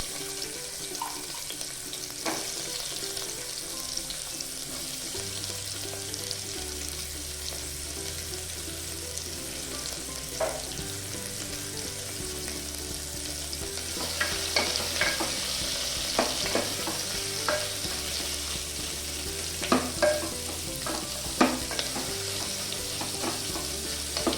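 Onion and fenugreek seeds fry in hot oil in a pan for methi dal, a steady low sizzle with occasional stirring clicks and utensil taps, some near and sharp, with no talking.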